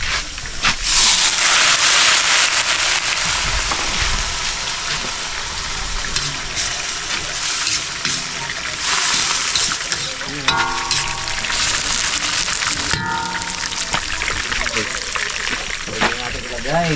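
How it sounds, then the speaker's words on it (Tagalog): Water hits a hot pan of cooking carrots and sets off a loud, sustained hissing sizzle that gradually eases, with people talking over it now and then. "lagyan natin ng konting tubig"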